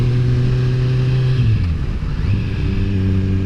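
A 2016–2017 Kawasaki Z motorcycle engine drones steadily in sixth gear at about 30 mph, a close, loud low hum with a brief dip and shift in tone midway before settling back.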